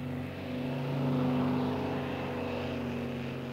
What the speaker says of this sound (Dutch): Vliegtuigen verschijnen dan en blazen rietzaad uit.